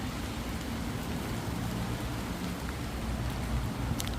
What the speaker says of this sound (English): It might be raining, guys